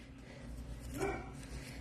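A dog barks once indoors, a short faint yip in a quiet room with a low steady background hum.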